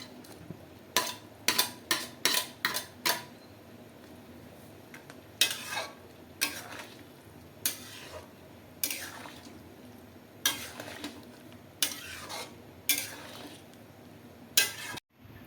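Paneer stirred into a vegetable and cauliflower curry gravy in a pot: a dozen or so sharp spoon scrapes and clinks against metal, in quick bursts and then spaced out, over a low simmering hiss.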